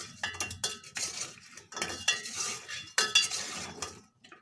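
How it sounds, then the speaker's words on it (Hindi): A metal spoon clanks and scrapes repeatedly against a pot while Kashmiri mirchi korma is mixed, giving close, rhythmic stirring strokes with a faint sizzle underneath. "इसके बाद अब हम इसे अच्छे से मिक्स करेंगे।"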